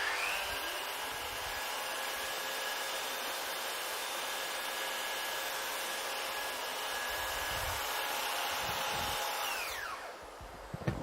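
A Festool CS 50 saw in its fully assembled set form runs with a steady, loud whine for about ten seconds while cutting material, then spins down abruptly near the end.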